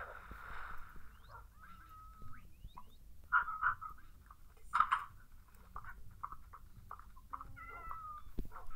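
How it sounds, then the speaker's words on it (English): A cat in a video game meows several times in short, clear calls over a quiet background, with a few faint chirpy sounds between. "Cute little cat."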